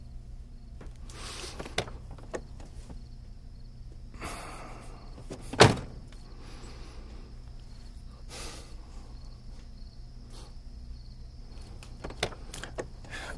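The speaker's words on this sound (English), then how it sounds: "I had to open the door for you." A car door opened once in a quiet setting, a single sharp mechanical click and thunk standing out at close range, followed by faint rustling and small handling noises with no talking.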